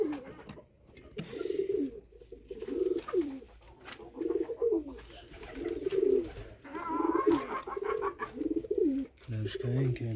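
Pigeons coo in a nest area near chickens, a low, throaty, repeated cooing in a steady pattern, with people talking in the background.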